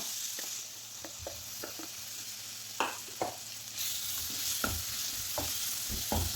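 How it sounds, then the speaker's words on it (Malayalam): Cut ripe plantain sautéing in ghee in a pan for banana halwa: soft continuous sizzle with intermittent spoon stirs and scrapes, close by and fairly quiet, no voices. "നെയ്യ് ഒഴിച്ച് കൊടുത്ത് ഈ കട്ട് ചെയ്ത് വെച്ച പഴം നമുക്കതിലേക്കിട്ട് വഴറ്റി കൊടുക്കാം."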